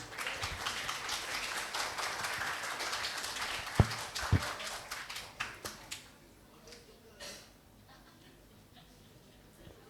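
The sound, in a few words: applause for the next speaker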